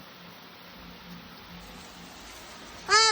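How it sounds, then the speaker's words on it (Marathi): Soft, even hiss of rain falling continuously at a distance, with a short voice breaking in right at the end. "पाऊस आलाय पाणी पडत"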